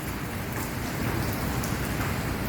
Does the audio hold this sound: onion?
no